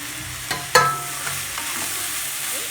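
Finely chopped onions frying in a pan with ginger garlic paste for a paneer kurma, a steady sizzle broken by a couple of sharp clinks from stirring near the start.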